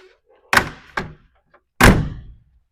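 Three solid car door closes on a 1929 hot rod: two firm thunks in quick succession, then a louder, heavier slam after a short pause.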